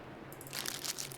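Eating an energy bar in The Long Dark video game, heard as a short, close burst of dry crunching and crinkling that starts soft and grows louder, with no talk over it.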